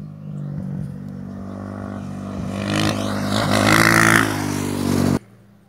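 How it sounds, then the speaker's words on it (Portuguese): A motorcycle in a rally passes by, its engine rising from a distant drone to a loud, close revving roar before cutting off abruptly. "Mais uma moto, galera. Mais uma moto."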